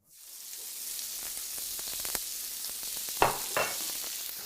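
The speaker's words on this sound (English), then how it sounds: "We just want to quickly sear the outside of the meat so that it's still basically raw in the middle" Beef for stroganoff searing in hot oil in a pan: a bright, continuous sizzle starts abruptly and holds steady, broken by a few crackles and louder spits.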